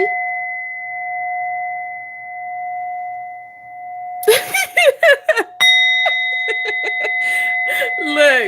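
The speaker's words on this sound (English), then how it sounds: "maybe I should have stopped ringing this bell" A hand bell rings out with a steady, sustained tone that lingers for several seconds, then a voice begins talking while the bell is struck again and keeps ringing underneath the speech.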